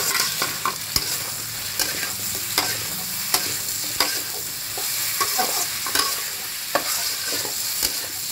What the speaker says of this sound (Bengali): দেখো আমার আলু আর গাঁটি কচুটা অনেকটা ভাজা ভাজা হয়ে এসছে, এই সময় আমি বেগুনটাকে দিয়ে দিচ্ছি।